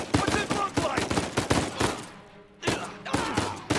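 Rapid bursts of gunfire in the action video game Uncharted 4, dense sharp volleys close and loud, a brief lull, then more shots resuming.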